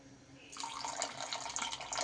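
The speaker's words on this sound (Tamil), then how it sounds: "இப்போ கொஞ்சமாக தண்ணி ஊற்றிக்கலாம்." Water poured into an egg masala curry with a ground coconut and fennel paste, a steady splashing trickle that starts suddenly after a quiet moment and keeps running, close and moderately loud.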